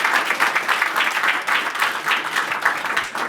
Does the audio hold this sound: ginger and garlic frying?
no